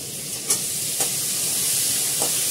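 A curry in a pan, seasoned with turmeric and a pinch of sugar, fries with a continuous hiss and sizzle while a spoon scrapes and stirs it in a few soft strokes, close and alone.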